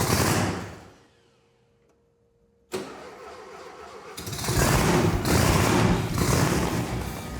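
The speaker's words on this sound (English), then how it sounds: "I love the sound of Volkswagen engines." A Volkswagen engine fitted with a blower, freshly rebuilt carburetor, cranks briefly after a loud start, goes quiet, then catches with a sharp bang and settles into a loud, rough, throbbing idle close by.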